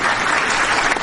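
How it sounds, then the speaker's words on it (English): A short burst of applause played on a talk show, with dense, loud clapping lasting about a second and no voices over it. "I'm giving myself some applause for that one."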